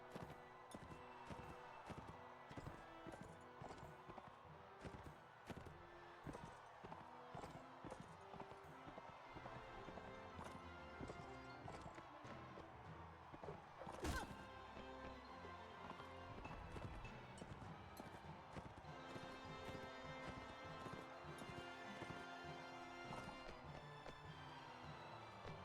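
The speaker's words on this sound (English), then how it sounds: "Some more horses there." Horse hooves clip-clopping in the video game Mount and Blade Warband, a steady rhythmic patter of several mounts mixed with a dense bed of game music and ambience, with one sharp louder hit partway through.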